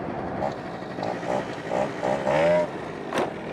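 Modified 50cc scooter engine revving up and down during a wheelie, a buzzy two-stroke whine rising in pulses, close to the recording device, with wind noise.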